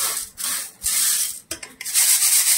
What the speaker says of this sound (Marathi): चाळून घेणार आहे, कारण आपल्याला तुकडे झालेली ज्वारी घ्यायची नाही.